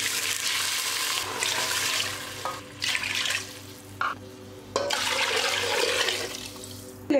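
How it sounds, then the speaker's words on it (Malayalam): Water pours steadily into a pot of rice for egg mandi in a kitchen, a splashing rush that stops and restarts in several bursts, with no talking. "നമുക്ക് വെള്ളം ഒഴിച്ചു കൊടുക്കാം."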